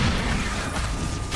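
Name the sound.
Expulso explosion spell in the Hogwarts Legacy video game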